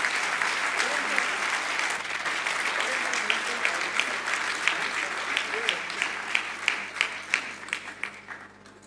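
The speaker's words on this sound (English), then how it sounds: "A very big round of applause to Kirtana." A convocation audience applauds a gold medal winner with sustained, dense clapping that grows more distinct and rhythmic toward the end.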